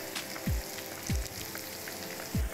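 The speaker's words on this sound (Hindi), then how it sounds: "Hot oil and now we need to just fry these chicken shreds." Shredded chicken coated in cornflour and egg fries in hot oil, with a steady close sizzle and crackle throughout. Three dull low thumps repeat at regular intervals over the frying.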